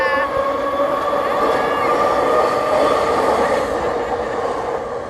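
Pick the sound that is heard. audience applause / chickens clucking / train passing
train passing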